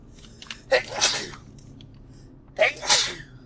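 Two sharp sneezes close by, each a quick inhale followed by an explosive burst, about two seconds apart.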